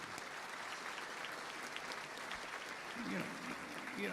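Distant, faint applause from an audience at a state of the village address, a steady wash of clapping with a voice briefly heard near the end.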